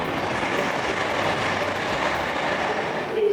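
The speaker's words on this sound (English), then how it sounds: "Train." A train running along the tracks near Brent Cross West station on the Midland Main Line, giving a steady, loud rumble and rail roar that holds constant throughout, with no voices over it.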